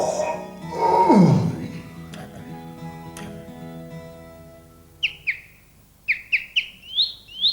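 A sparrow chirps in a 1991 animated cartoon: bright, rising chirps arrive in quick bursts after a falling swoop and a few soft ticks earlier on.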